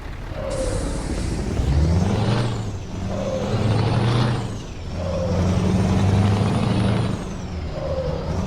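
A truck with air brakes, heard as a loud rumbling engine that swells and eases in repeated cycles, with a steady high whine and periodic hissing bursts throughout.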